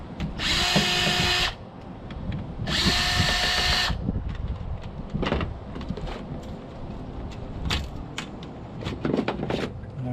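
Power drill spinning out small keeper screws from a Gateway all-in-one computer, with two loud whirring bursts near the start and then softer clicks and handling of parts.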